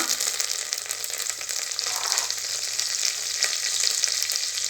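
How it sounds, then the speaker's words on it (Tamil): Green chillies and mint leaves fry in hot oil in a pan, giving a steady, close crackling sizzle with faint stirring scrapes throughout. "இது நல்லா பொரியட்டும்."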